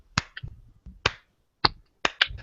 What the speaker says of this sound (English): Is my slow clap processor working?